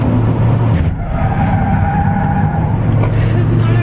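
A Mercedes-Benz B-Class driven hard on a race track, its engine droning loudly and steadily close by with a faint tyre squeal, while someone talks over it.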